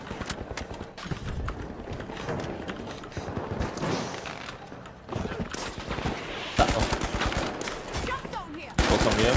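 Rapid bursts of turret gunfire crackle in the shooter game The Finals, dense rhythmic shots with short gaps and impacts, while a player talks over the action.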